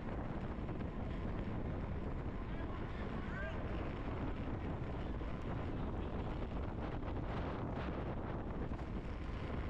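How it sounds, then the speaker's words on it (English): Strong gusting wind buffets the microphone outdoors at a women's road bicycle race in California, a loud, steady broadband roar throughout with no clear speech. "it's definitely gusting wind right now"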